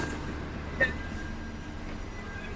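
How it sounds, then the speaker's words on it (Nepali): Inside a moving passenger train travelling from Sydney to the Hunter Valley in Australia, a quiet steady rumble and hum fill the carriage, with one brief clack standing out early on. "हाम्रो ट्रेनभित्र यो हो"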